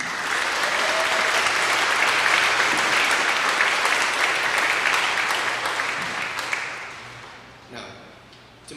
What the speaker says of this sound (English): Can I please have everyone give a warm round of applause to our SGS teachers,